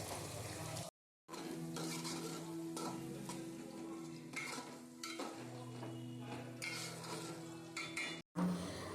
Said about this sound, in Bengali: পেঁয়াজটাকে একটু লাল করে ভেজে নিচ্ছি